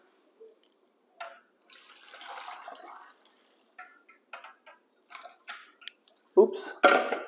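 Coconut water poured out while making raw vegan goat cheese, heard as a few intermittent splashing, trickling bursts in a quiet kitchen, with a louder pour near the end.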